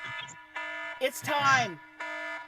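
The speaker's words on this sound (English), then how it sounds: "Oh my God, that was my alarm." An electronic alarm buzzes in repeated steady bursts while a person talks over it, the tone cutting in and out.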